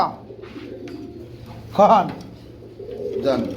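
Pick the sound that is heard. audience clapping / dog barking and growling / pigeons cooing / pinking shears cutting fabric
pigeons cooing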